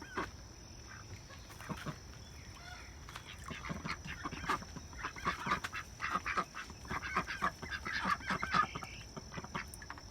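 Domestic ducks and geese, including a puddle duck, quack and honk repeatedly in an evening garden pen in Maryland as they settle in for the night, a busy chorus of overlapping calls close by with a steady background hum.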